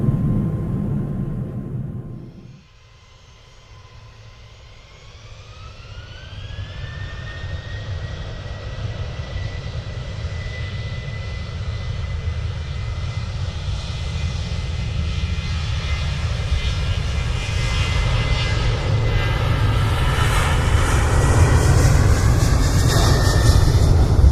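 Simulated Airbus A320neo engines spooling up to takeoff thrust in a flight simulator, a rising whine over a deep roar that grows steadily louder and fuller after a brief lull.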